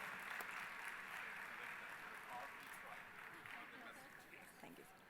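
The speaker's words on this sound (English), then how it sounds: "We can have a round of applause for the ladies who's putting so much effort" An audience at a women's conclave and awards ceremony gives a round of applause for the honoured ladies, a steady, fairly distant clatter of many hands with faint voices mixed in.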